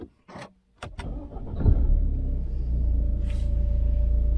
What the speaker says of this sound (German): Jetzt werden wir einmal Probe fahren.